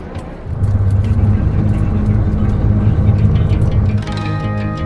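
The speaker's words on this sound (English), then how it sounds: "This bus ride was taking me to the end of the peninsula and into Cabo San Lucas" A modern bus travels from La Paz to Cabo San Lucas on Mexico's Baja California peninsula, its engine giving a steady low rumble with road noise throughout and a slight shift near the end.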